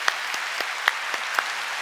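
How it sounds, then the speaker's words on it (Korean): Church congregation clapping during a Sunday service, a soft, even patter of many hands with a few sharper claps standing out at irregular moments, heard alone without speech. "다시 한번 우리 박수로 축복해 주시기 바랍니다"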